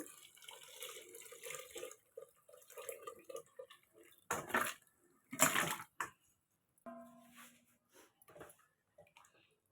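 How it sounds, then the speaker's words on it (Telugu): Leftover cooking water from goat trotters splashes into a curry pot in short, uneven bursts, with two louder pours midway and quiet dripping between them. "పాయాలో వాటర్ ఉన్నాయండి వాటర్తో కూడా వేస్తున్నాను నేను"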